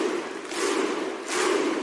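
A crowd at a WWE wrestling event in Bologna roars and cheers in two loud, sustained swells, with the noise building again near the end.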